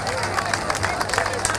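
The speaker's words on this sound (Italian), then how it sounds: "applauso" Applause at an accordion festival, a crowd clapping in a fast, dense patter with some background chatter and hubbub mixed in.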